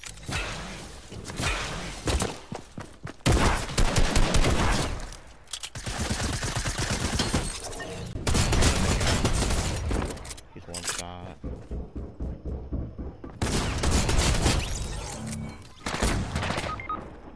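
Bursts of combat shotgun fire in a Fortnite match, loud clustered blasts coming in several rapid volleys with short gaps, under game noise and occasional voices.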